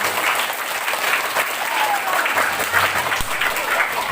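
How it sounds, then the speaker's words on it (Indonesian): Students in an audience clap together at a drug-awareness talk, a loud, even wash of applause lasting throughout, with scattered voices beneath. "tepuk tangan kalian semua dulu"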